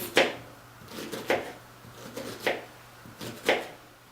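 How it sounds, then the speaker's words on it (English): Onions being chopped with a knife on a cutting board for a sausage and roasted vegetable meal, giving four sharp, close knife strikes spaced about a second apart, with softer taps in between. "I'm just cutting my onions next here."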